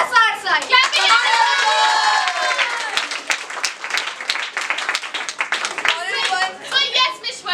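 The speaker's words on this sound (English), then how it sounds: "a huge round of applause for those students who are going to get the token of appreciation" An audience at a student felicitation celebration claps continuously for several seconds, with voices talking and calling out over the clapping throughout.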